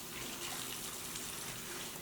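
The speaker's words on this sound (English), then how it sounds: "we want to make sure we rinse the dog thoroughly, but try your best not to get any water into his ears" Tap water rinsing an American Bully puppy during a bath, a steady close gushing stream that runs without a break.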